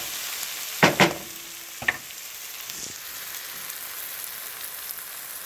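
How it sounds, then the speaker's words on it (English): Wine deglazing in a hot pan with garlic and onions gives a soft, even sizzle, broken early by a few sharp clinks of a utensil against the pan, then a quieter steady hiss. "I'm going to let this deglaze down to about till it's almost dry"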